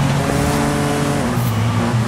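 A B700-class hot hatch racing in Forza Horizon 5, its engine revving loud and close with shifting pitch, accompanied by brief tire squeal.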